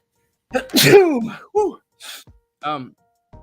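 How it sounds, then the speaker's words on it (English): A loud, close sneeze with a gasping intake before it, followed by a few short breathy sounds. "I'm gonna sneeze again"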